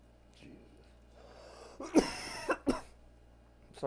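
A person coughs in several harsh bursts, a couple of loud hacks close together after some quieter breathing and throat sounds.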